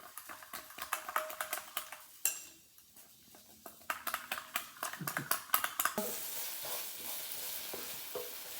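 Spinach fries in a pan while a utensil stirs it in quick, repeated scraping strokes, the sizzle growing louder toward the end; quiet and close.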